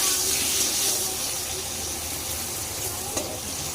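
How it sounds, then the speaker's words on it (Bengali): Potatoes seasoned with turmeric and salt fry in a pan with a steady, close, loud sizzle and hiss that runs without a break, marked by a faint stir near the end. "আলু ভাজতে দিয়ে দিয়েছি।"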